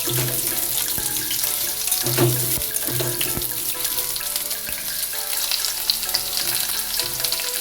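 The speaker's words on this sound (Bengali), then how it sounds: "আলুটা ভেজে নিচ্ছি।" Diced potatoes fry in oil with a bay leaf and whole cumin, a loud, dense, continuous sizzle close up, with occasional stirring scrapes and taps of a utensil in the pan.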